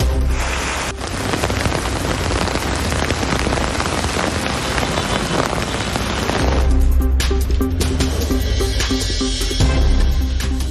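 Heavy rain pours down in Krishnagiri, a dense, steady hiss of drops drumming on surfaces, continuous and loud throughout with sharper spattering toward the end and no speech.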